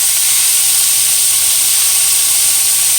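Peppers and onions sizzling in a frying pan for a sausage, rice and veggie stir fry, a loud steady hiss that stays constant and close throughout.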